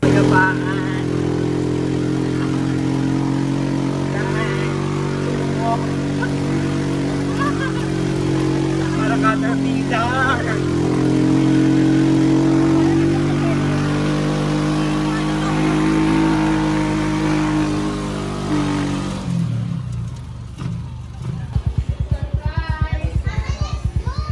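A motorized tricycle on the road to Pandin Lake in San Pablo City, Laguna, drones steadily with a low, rumbling engine under occasional voices. The engine turns rougher and more sputtering as it slows at the end.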